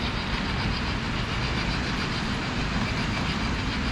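A model train runs along the track of an indoor display layout modeled after the Swiss Alps, giving a steady, continuous rumble and rattle at even loudness throughout, with no talking.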